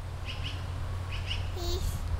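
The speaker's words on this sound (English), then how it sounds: "The bird is in the trees." A few high, short chirps from a bird in park trees sound in pairs against a low steady hum, with a faint voice-like tone near the end.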